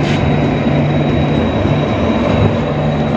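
A passenger train runs near Bikaner junction in India, a steady loud rumble of wheels and carriage noise heard from on board, continuous and close with no talking.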